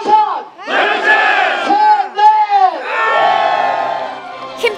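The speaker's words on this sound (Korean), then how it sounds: "힘찬 환호와 함께" A crowd at an outdoor peace ceremony on Balwangsan mountain in Pyeongchang lets out loud, rising cheers and shouts as dove-shaped balloons are released, with several bursts of whooping voices close by.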